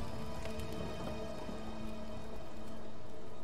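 Steady rain pours in the video game Tomb Raider (2013), a dense, continuous hiss of drops on surfaces with a faint rumble beneath, close and unbroken with no talk.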